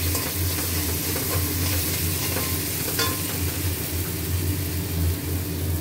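Leftover fish reheating in a pan sizzles steadily, a dense continuous frying hiss with a low hum underneath and a few faint clicks of stirring, no voices.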